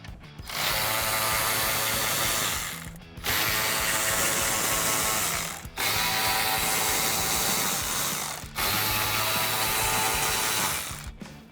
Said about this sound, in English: Next up, We have our CD player, 4 7mm bolts